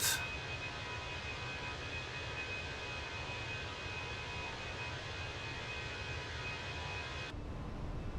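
Steady, loud roar of an airplane's engines as it accelerates down the runway on takeoff in Microsoft Flight Simulator 2024, a continuous rushing drone holding even throughout, with no voices.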